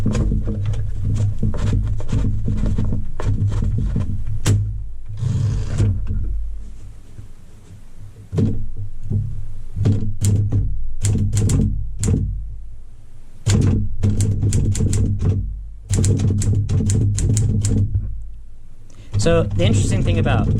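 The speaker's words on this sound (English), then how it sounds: "let me put a sheet of paper in and I'll give a little demo of how this works" A Smith-Corona mechanical typewriter has a sheet of paper fed in, then is typed on close up: bursts of sharp key clacks and heavier thunks in uneven runs, broken by brief pauses.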